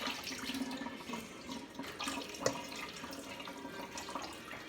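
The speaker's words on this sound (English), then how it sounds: "And then of course gonna rinse the meat." Tap water runs into a sink to rinse beef, a soft continuous stream with light splashes and one brief clink, fairly quiet and close, with no talking.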